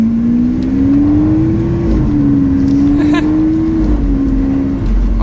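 A Lamborghini Aventador LP700-4 in Strada mode gives a steady, loud engine drone that rises gently in pitch, dips and climbs again, with light road and wind noise throughout and no talk.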